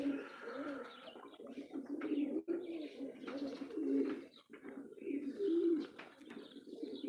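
Pigeons coo repeatedly in low, throaty calls at a pigeon farm, close by and overlapping, with occasional light chirps and rustles in the background.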